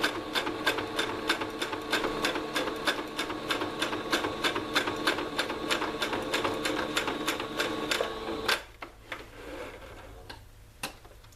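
A sewing machine stitches along a zipper pouch in a quick, steady run of sharp mechanical ticks, close and clear for about eight seconds. Then it stops, leaving quieter handling noises and a couple of faint clicks.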